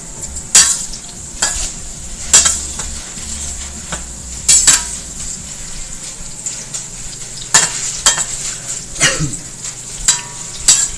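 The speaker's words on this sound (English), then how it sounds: "these onions are taking way too long. Come on, onion. Cook. Cook faster." Onions frying in a pan for chicken biryani, a steady sizzle under repeated sharp scrapes and clinks of a utensil stirring against the pan, close and fairly loud.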